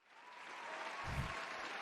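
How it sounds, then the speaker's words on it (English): Applause swells up from quiet and holds steady as a crowd claps continuously, with no talking. "I'll give her a round of applause for that."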